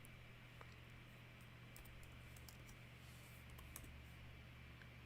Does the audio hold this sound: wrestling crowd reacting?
no